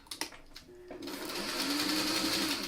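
After a few light handling clicks and rustles, a sewing machine starts up and runs steadily, stay stitching around fabric for a hair bow with a continuous fast whirring buzz, close and moderately loud.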